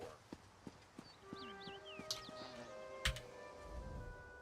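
Hooves clip-clop in a steady, fairly quiet rhythm in Elder Scrolls Online, with tonal game-like sound effects and a sharp click layered on top.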